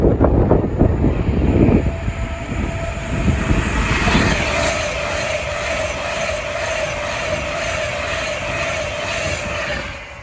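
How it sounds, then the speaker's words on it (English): An Avanti West Coast class 390 Pendolino from London Euston to Manchester rushes past on the West Coast Main Line at Bushey, loud and close at first, then settling into a steady rolling roar and high whine that fades toward the end. "The next train to pass by is going to be an Avanti West Coast class 390 Pendolino from London Euston to Manchester"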